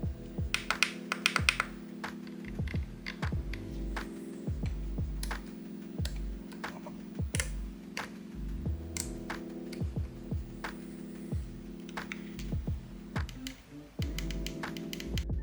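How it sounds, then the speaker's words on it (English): Crisp, tactile clicks and notchy detents from the metal buttons and rotary encoders of a MOZA Vision GS sim racing wheel, in rapid irregular bursts close up over a low hum. "every input has an incredibly satisfying click and notchiness"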